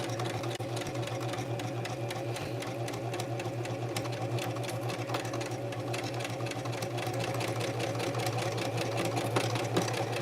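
Sewing machine running steadily while stitching a tulle arm ruffle for a ballet costume, a continuous close mechanical whir with rapid needle ticking throughout.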